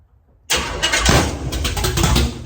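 Engine with a bad-sounding starter cranking roughly after a brief silence, then catching and running with a loud, uneven burst close by, with no voices.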